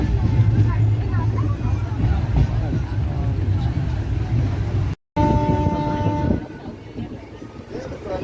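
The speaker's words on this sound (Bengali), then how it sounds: "স্লোতে চলছে ট্রেন এখন" The Puri Duronto Express rumbles along slowly, a steady low mechanical rolling heard from inside the carriage, with passengers chattering in the background and a brief dropout partway through.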